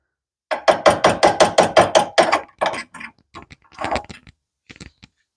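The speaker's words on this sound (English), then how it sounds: "Let's chip off the welding flux there." Hammer chipping welding flux off a fresh weld: a quick run of about eight sharp, evenly spaced taps, then scattered irregular knocks and scrapes, close and loud.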